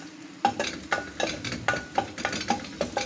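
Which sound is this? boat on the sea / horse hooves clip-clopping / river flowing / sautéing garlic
sautéing garlic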